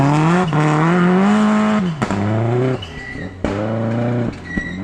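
Rally car racing through powder snow at the Big White Winter Rally, its engine loud and close, revving hard through rising gear pulls with sharp shifts and brief lifts between them.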